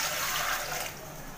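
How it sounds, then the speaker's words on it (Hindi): Water pours from a vessel into a cooking pot on a gas stove while making a spiced taro-leaf dish, a close, steady splashing gush that eases off toward the end. "पानी डाल देंगे"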